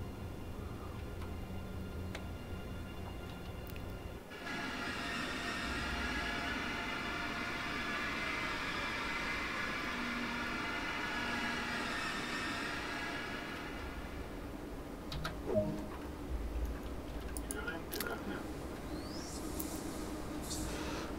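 An ICE high-speed train pulls into a station platform in Train Sim World 2, its steady electric running hum rising then fading as it slows, followed by faint clicks and cab noises near the stop.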